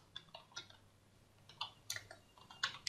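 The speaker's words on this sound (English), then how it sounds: "you can type the domain you are looking for" Quiet clicks of a computer keyboard as a domain name is typed, a dozen or so light, irregular keystrokes over a faint room hiss.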